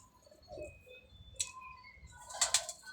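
Pigeons, black-winged birds in a fancier's loft, give soft low coos while a few wingbeats flutter nearby, ending in a brighter burst of flapping; quiet and close with no talking.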